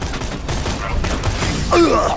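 Bursts of enemy gunfire in the video game Borderlands 2 crackle in rapid, repeated volleys at moderate loudness, mixed with game sounds and a sharp electronic whine near the end.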